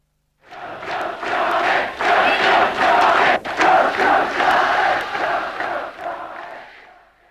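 A large football crowd at a Newcastle United match roars and chants in a loud, sustained swell that rises quickly, holds for several seconds with a brief dip in the middle, then fades out.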